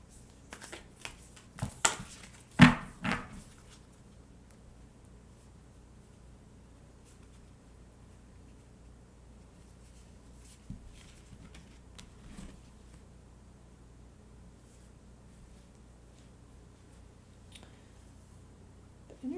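Oracle cards are shuffled by hand in a few soft, papery riffles near the start, followed by long quiet stretches with occasional faint card taps and rustles.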